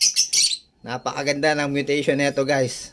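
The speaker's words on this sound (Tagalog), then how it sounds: "So guys, ito na yung bago nating ibon" An African lovebird of the par blue mutation chirps in short bright bursts at the start, then someone speaks over softer bird sounds.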